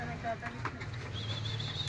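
Soft pigeon coos sound close by, with a faint high whistle and low background murmur.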